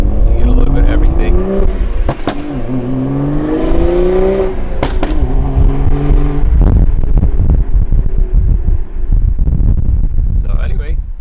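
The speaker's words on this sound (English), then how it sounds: "A little bit of pops, a little bit of turbo noises." A car engine revs and drops with several sharp exhaust pops and a whining turbo, heard up close over heavy wind buffeting.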